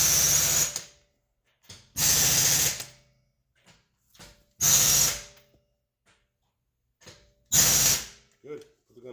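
Four loud, close bursts of an air impact gun tightening wheel lug nuts on an R32 Skyline, each lasting about a second with short gaps, with small clicks and ratcheting rattles in between.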